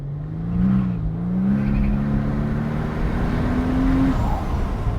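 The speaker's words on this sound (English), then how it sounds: "I'm stepping on the throttle fully now, gently." Mercedes SL65 AMG Black Series engine revving at full throttle with a rising drone as it accelerates, steady road noise underneath, fairly close, no talking.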